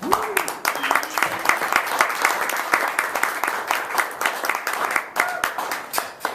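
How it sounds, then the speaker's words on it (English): Audience applause at an improv comedy slam, a dense steady wash of many hands clapping throughout, with voices and a brief cheer mixed in. "Keep that applause coming for cross-sectionals."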